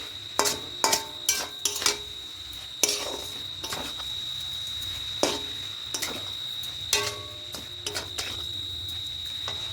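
A spoon stirring a coconut mixture in a pan, clinking and scraping against the metal in irregular bursts, with a steady thin high whine underneath and no talking.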